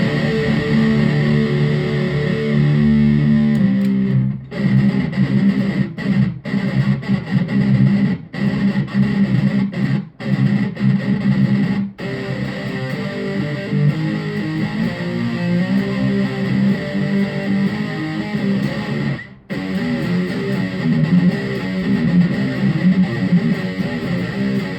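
Distorted electric guitar run through a Boss chorus pedal on a small pedalboard, sustained chords and riffs with a few abrupt stops, played alone and loud without talk.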